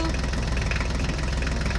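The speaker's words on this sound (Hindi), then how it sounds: "ड्राइवर जल्दी से ट्रैक्टर को आगे लेके आओ" A tractor engine idles at a field where soil is being loaded into a trolley, giving a steady, close, low throbbing rumble with an even rhythmic pulse throughout.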